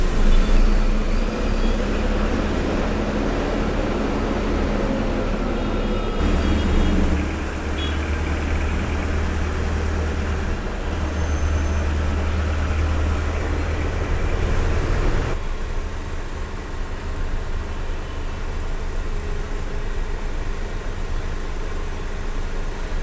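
Heavy peak-hour road traffic in Bangalore heard from inside an SRLG Transport bus, a loud continuous engine and road rumble with shifting low drones and no talking.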